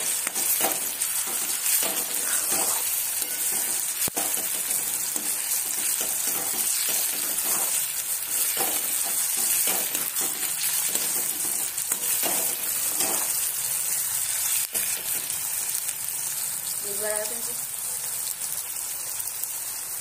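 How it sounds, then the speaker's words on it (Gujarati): Gujarati-style vegetables fry in hot oil in a pan with a continuous close sizzle and intermittent stirring scrapes, holding steady throughout. "આ રીતે બરોબર તેલમાં શેકવા દેવાનું છે।"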